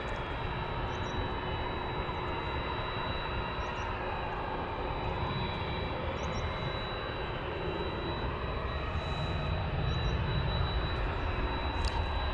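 A UPS Boeing 767 is heard off to the south at Dallas/Fort Worth Airport as a distant, steady low engine rumble that swells slightly near the end, with no talk over it.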